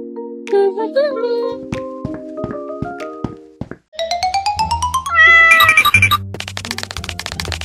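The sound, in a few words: cat meowing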